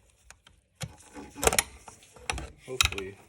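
A 13mm socket wrench loosens a fuel filter bolt on a 2007 LBZ: sharp, close metallic clicks and short ratcheting bursts, with a few louder knocks as the bolt gives way. No one speaks.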